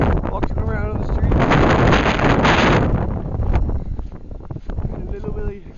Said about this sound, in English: The wind is fucking strong.